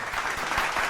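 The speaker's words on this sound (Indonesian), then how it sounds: "tepuk tangan sekali lagi untuk tim B" An audience at a televised cash-prize quiz show claps for a winning team, a dense, steady burst of applause from many hands, loud and close.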